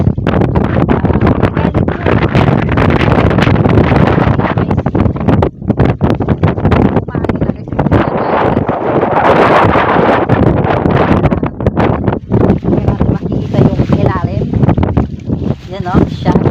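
Strong wind roars and buffets the microphone continuously, a loud rumbling gust noise with faint voices underneath.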